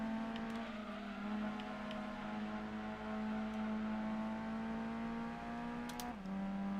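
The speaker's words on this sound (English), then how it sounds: "Great drift, excellent drift." Car drifting in Gran Turismo 2, a sustained revving engine note holding a steady pitch with small dips and a drop near the end, fairly loud and alone.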